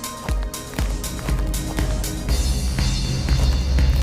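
Footsteps crunch across a snow field in a Unity game demo, a steady run of soft thuds about two per second with music playing underneath.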